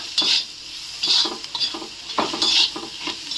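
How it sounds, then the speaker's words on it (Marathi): Chopped onion and green chillies fry in hot oil in a pan, a steady sizzle broken by repeated scraping strokes of a spoon stirring them, close and clear with no talk. "आता यामध्ये हिरवी मिरची टाकायची आपली। थोडंसं चांगलं भाजून घ्यायचं आहे बघा।"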